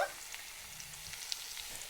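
Chopped onions and green chillies fry until golden in hot oil as the base for mutton curry, giving a faint, steady sizzle with tiny crackles throughout.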